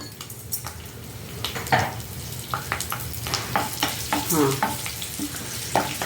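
Crushed garlic, urad dal, mustard seeds and cumin frying in oil, a continuous close sizzle broken by repeated scraping stirs and light pan clinks.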